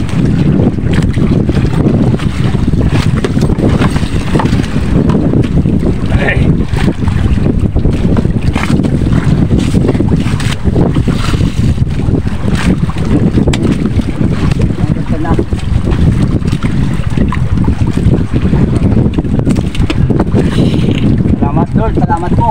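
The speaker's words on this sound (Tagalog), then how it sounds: "Malakas na po yung hangin." Strong wind at sea buffets a small fishing boat, a loud, continuous roar and rumble with the wash of waves, while voices are faintly heard beneath it.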